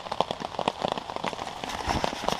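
Rain blown by wind onto a hammock strung on a hillside along the Appalachian Trail, a close, steady patter of drops with scattered louder taps and no voices.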